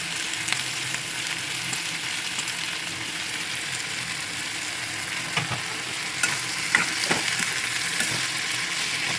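Fresh and dry coconut roasting with onion in a pan, giving a steady close sizzle broken by intermittent clicks and scrapes of stirring.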